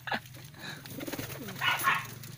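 Pigeons coo in a loft, with soft, rolling throaty calls repeating over a low background hum and a few brighter bird sounds close by.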